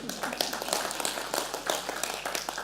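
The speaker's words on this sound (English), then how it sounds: "yeah, go ahead, clap that." A live audience claps steadily in a room, a dense patter of many hands at moderate level with no talk over it, directly after being invited to applaud medical doctors.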